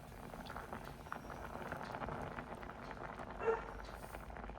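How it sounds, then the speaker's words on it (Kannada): Pasta payasam bubbling at a boil in a pot, a steady dense simmering patter with one brief louder burst near the end, no voices. "ಕುದಿ ಬಂದಿದೆ"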